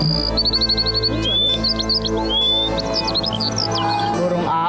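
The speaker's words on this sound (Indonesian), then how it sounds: "Aku nggak pernah dengar suara burung kayak gitu." Bird calls in a forest scene by a clear lake, a series of rapid chirps and whistled trills over music, bright and fairly loud.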